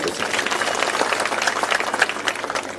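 An audience clapping at a public gathering, continuous scattered applause at moderate volume with voices mingled in the crowd noise.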